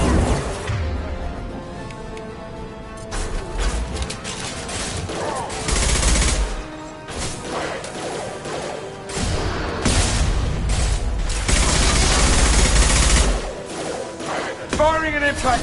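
Gunfire from an impact shot, heard as a dense, loud volley of overlapping shots, booms and thuds that swell and recede across the whole stretch, with a few whooshing sweeps near the end.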